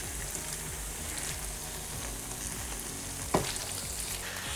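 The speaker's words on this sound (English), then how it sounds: "we're going to go in with our tomatoes and our olives. We're going to reduce the heat and let this simmer while our pasta cooks." Tomato and olive sauce simmers in a pan with a steady, soft sizzle and bubbling, broken by one brief clink near the end.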